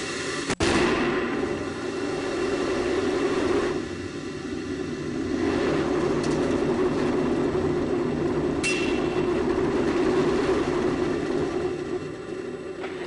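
Space Shuttle Endeavour's twin solid rocket boosters roar during the STS-127 launch, a steady broadband rumble with a sharp crack near the start that continues without pause, distant and sustained.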